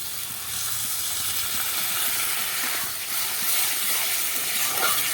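Water goes into a pan of prawn and potato curry, giving a steady hiss and bubbling steam that holds close and fairly loud for the whole few seconds, with no voices.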